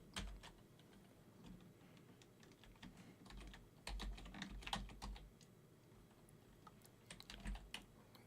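Quiet, close keyboard typing as a name is entered on a computer, with soft irregular key clicks in small clusters and no talking.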